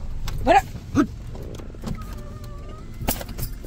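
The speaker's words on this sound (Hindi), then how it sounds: "वरुण ने शीशा डाउन कर दिया था" Power window of a car being lowered, a brief motor whir inside the vehicle amid scattered clicks and knocks, with people talking nearby.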